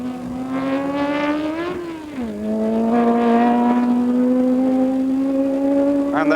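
Historic racing car, a Martini MK4 racing at the Montlhéry circuit at a 1991 historic Grand Prix, roars close by with a steady high-revving engine note, a brief lift around two seconds, then sustained full-throttle drone and another car joining at the end.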